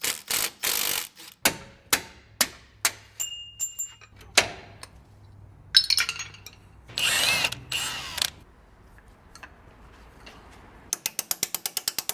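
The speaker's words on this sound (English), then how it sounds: "is that a 9/16 socket? It sure looks like it. And a wrench." A ratchet wrench with a 9/16 socket works bolts loose on a custom 359 Peterbilt front air-ride setup, giving bursts of sharp clicking strokes, several separate runs, then metallic clatter and a quick final run of rapid clicks.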